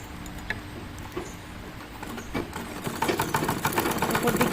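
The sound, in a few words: sewing machine stitching a nightie neckline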